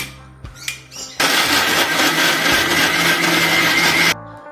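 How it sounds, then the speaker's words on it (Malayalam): A mixer jar blends bananas with sugar in one loud, continuous motor whir lasting about three seconds, with a few knocks from handling before it starts and after it stops. "അപ്പോൾ അതാ നന്നായിട്ട് പഴം പഞ്ചസാരയും കൂടി ഞാൻ അടിച്ചെടുത്തിട്ടുണ്ട്"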